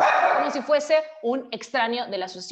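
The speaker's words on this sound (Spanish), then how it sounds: "Perdonen el perro porque hay pájaros dando vuelta por acá." A dog barks in a rapid series of close, loud yips and woofs, with someone talking underneath, while birds fly around outside.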